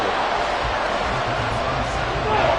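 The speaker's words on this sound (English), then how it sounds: "This crowd turning up the decibel level." Football stadium crowd during a fourth-quarter game against the Eagles, a dense continuous roar of many voices swelling loudly around third and long, with a commentator's voice faintly mixed in.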